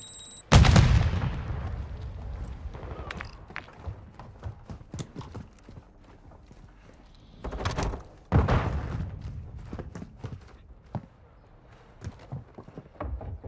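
Flash grenade and Semtex explosions in the video game Modern Warfare II go off as loud booms, one near the start and two more later, with scattered gunfire and clattering impacts between them.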